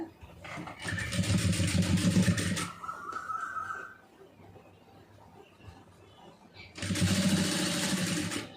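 A sewing machine runs in two loud, steady bursts while stitching piping onto fabric, with a quieter pause between them. A voice speaks in the gap.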